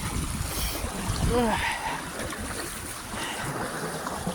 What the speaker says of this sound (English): Oh, listen to that water. Sound of waves, sound of seagulls.